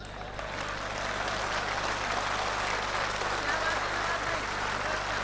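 Audience at a Republic Day kavi sammelan and mushaira in Dubai applauds a recited couplet with a dense, steady wash of clapping that fills the hall without a break.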